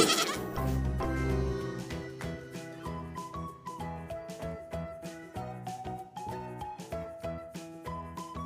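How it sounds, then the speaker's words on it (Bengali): Young goat kids bleat repeatedly in a children's Bengali alphabet rhyme. The short, wavering cries come in a regular rhythm over bouncy music. "পথে ছাগল ছানা ছাগল ছানা লাফিয়ে চলে"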